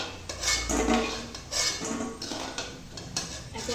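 Fried pea lentil fritters being lifted one by one out of a pan, metal utensils clinking and scraping against the pan in irregular knocks over a light background hiss.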